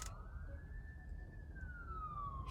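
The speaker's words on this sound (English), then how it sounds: "You hear the sirens?" Emergency vehicle siren wailing steadily from a distance, one long rising and falling tone over low background rumble, with no talking.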